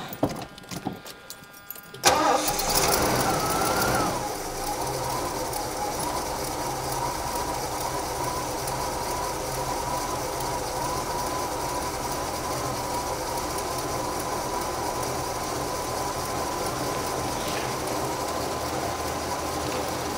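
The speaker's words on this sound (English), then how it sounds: "There's our cold start." 1977 Lincoln Continental Town Car with a carbureted engine on a cold start: a brief cranking chatter, then the engine catches loudly and settles into a steady, even idle that runs on, close by.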